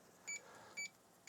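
Faint, evenly spaced electronic beeps from a Fujitsu M2551A 360k floppy drive during alignment, three short high tones about half a second apart over a quiet hum.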